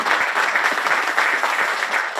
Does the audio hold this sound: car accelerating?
no